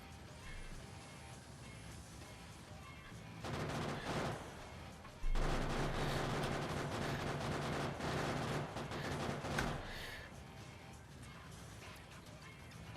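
Gunfire in a video game, scattered shots and crashing bursts over a noisy backdrop, louder in the middle stretch and fading toward the end.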